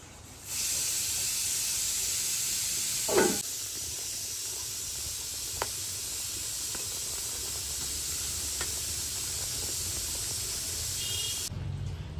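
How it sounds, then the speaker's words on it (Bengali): Pabda and kalbaush fish from the Ganges go into bubbling curry gravy, and a sudden, steady hissing sizzle takes over, with a few faint clicks and a louder burst early on. "ঝোল ফুটে গেছে, এবার মাছগুলো দিয়ে দিচ্ছি।"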